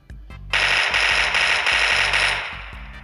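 Vector submachine gun firing in a first-person shooter, a fast, loud automatic burst lasting a few seconds with sharp, crackling reports over low rhythmic thuds.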